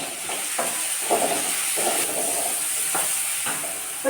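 Onions and green chilies with salt sautéing in a pan give a steady hiss and sizzle, with light stirring clicks recurring throughout.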